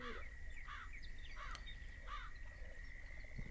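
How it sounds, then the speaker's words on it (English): Crows caw in the Fishing Planet fishing game, three or four harsh calls spaced apart against a soft, steady outdoor ambience with a high insect-like drone. "there's some crows in the background."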